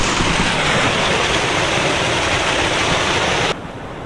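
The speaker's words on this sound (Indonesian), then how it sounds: "Lihat, ada aliran air di samping kanan aku. Wow, ada mini waterfall juga di sini." Small waterfall and flowing stream at Titi Waterfall, a steady close, loud broadband rush of water that carries on unbroken, with a slightly quieter stretch at the end.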